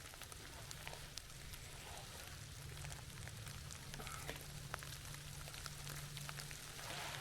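Hail falls through a forest, pattering steadily on leaves and the ground under the trees, a dense, even crackle with faint scattered sharper hits, fairly quiet and continuous throughout.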